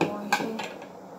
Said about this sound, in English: Scraping down the sides with my spatula.